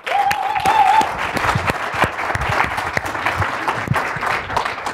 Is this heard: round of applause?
yes